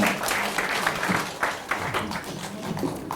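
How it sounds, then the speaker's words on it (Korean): An audience applauds three guest speakers with brief, uneven clapping from a smaller group, individual claps standing out, with faint voices mixed in. "우리 세 분께 큰 박수를 보내드리면서"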